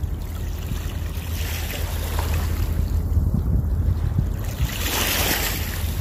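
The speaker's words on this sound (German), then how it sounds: "Ist das nicht herrlich, wenn man hier so das Plätschern hört." Water babbling and splashing in a small river along the Ruhr valley, a steady broad rush with wind noise buffeting the microphone, continuous and fairly loud with no voices.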